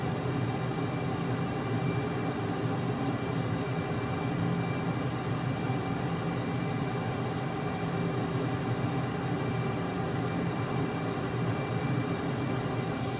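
A jet engine in Microsoft Flight Simulator roars steadily as the aircraft builds speed toward 500 knots, a constant broadband rush with no voices.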